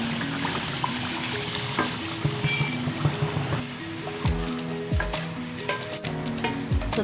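Vegetables go into a pan of fried dry spices for a potato curry, sizzling steadily up close with clinks and scraping stirs of a spoon against the pan through the second half.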